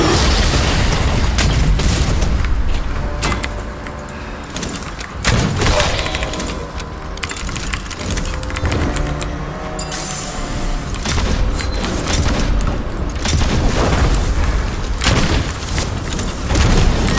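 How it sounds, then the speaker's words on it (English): Repeated heavy booms and thuds from grenade launcher explosions in the first-person fantasy shooter Witchfire, loud and dense amid continuous combat noise and music, with bursts recurring every few seconds. "Actually, I can use my grenade launcher."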